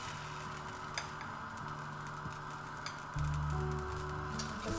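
Small blini-like pancakes, spooned from batter, cook gently in a pan on the heat, giving a steady soft sizzle and faint ticks that swell louder when fresh batter is added partway through.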